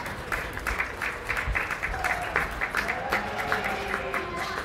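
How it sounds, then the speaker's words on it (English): An audience claps at a county fair sheep show, a moderate, steady patter of applause lasting a few seconds with faint voices mixed in. "Give them both a big round of applause."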